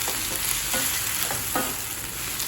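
Onions, tomatoes and cashews sauté in a pan for paneer masala gravy, giving a steady close sizzle broken by a few scraping stirs, with no talking.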